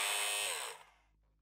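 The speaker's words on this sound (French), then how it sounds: "Ah, des scies circulaires." A circular saw whines loudly for a moment, then winds down and fades quickly into a low hum before going quiet.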